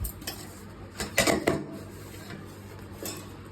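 A spoon stirs ground powder into boiled vegetables in a metal pot, giving a few scattered clinks and scrapes against the pot over a quiet background.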